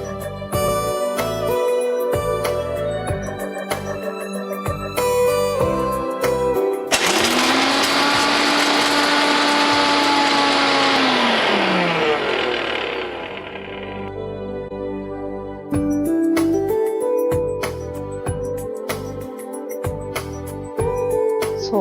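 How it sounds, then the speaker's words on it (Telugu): A kitchen mixer grinder whirs loudly as it grinds walnuts and almonds into powder, a steady high motor roar of several seconds that rises and cuts off, flanked by clinks and handling noises. "సో ఫస్ట్ ఇది మిక్సీ పట్టేసుకొని"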